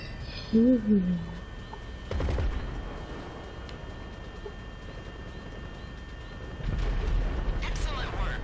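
Automatic gunfire from a machine gun in GTA V Online, with bursts of loud percussive shots that come and go over a steady rumbling game background while someone talks over it.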